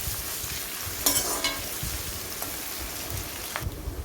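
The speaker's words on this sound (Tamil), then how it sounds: "கொஞ்சம் நல்லா இந்த எண்ணெயிலே இந்த வெங்காயம் வந்து வதங்கட்டும்." Sliced onions sauté in oil for egg biryani with a bright, continuous sizzle, broken by a few sharp clinks and scrapes of stirring close by and no voices.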